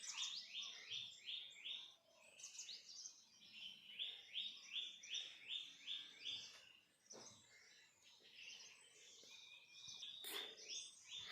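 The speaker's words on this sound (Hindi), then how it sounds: "और चिड़ियों की आवाज़" Birds chirp in quick repeated bursts, fairly faint against a soft outdoor background with occasional insect buzzing, around an old traditional house in Himachal.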